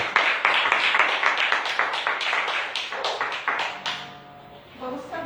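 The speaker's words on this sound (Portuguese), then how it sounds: "Vamos aplaudir o nosso Deus." A church congregation claps in a fairly quick, even rhythm for about four seconds, then the clapping thins out and a voice speaks briefly at the end.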